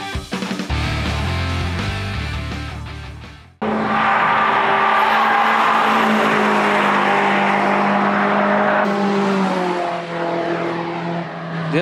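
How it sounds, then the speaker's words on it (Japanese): Toyota compact car with a 4E/5E engine runs hard on a track, a loud strained engine note rising through the revs with a sharp cut and gear change, then sustained high-rev drive, no talk. "それでは 4E5E エンジン搭載車の走りをご覧いただきましょう。"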